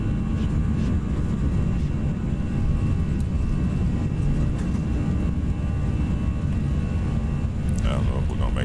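The twin jet engines of an Airbus A319 in X-Plane 11 spool up to takeoff thrust, a loud, steady roar that fills the cabin, with brief higher-pitched tones near the end.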